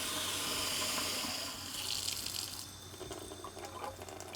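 Steady water flow from an upgraded RV water pump running into a sink, a continuous soft rushing at low volume with faint splashing changes partway through.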